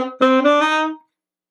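Tenor saxophone playing a short, clean phrase without ghost notes, an opening note quickly followed by a sustained tone that cuts off abruptly after about a second, played solo with no talking.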